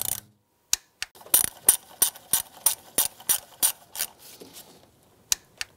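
Hand ratchet tightening 10mm bolts on the power steering pump of a 2007-2013 Acura MDX, a series of close, crisp clicking bursts in an irregular rhythm with short pauses between strokes.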